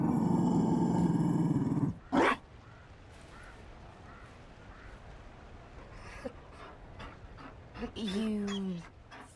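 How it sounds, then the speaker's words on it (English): A large Mabari war dog in Dragon Age: Inquisition makes a deep, sustained growling rumble, then a sharp outburst, then a quieter stretch of breathy sounds before a short rising whine near the end, with no speech. "You found a dog?"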